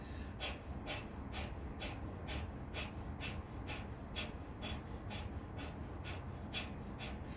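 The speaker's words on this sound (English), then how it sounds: "now from your nose exhale so fast" Rapid, forceful exhalations pushed out through the nose during a breathing exercise: a steady train of about a dozen short, sharp puffs, evenly spaced and close, over a low background hum.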